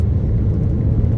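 A turbocharged 20-valve 1.8-litre engine in a first-generation Audi TT rumbles steadily and loudly, heard briefly from close by with no talking.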